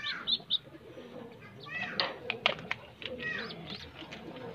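Pigeons flapping and shuffling close by, giving quick irregular bursts of wing flutter mixed with faint chirps and coos, with a person speaking intermittently.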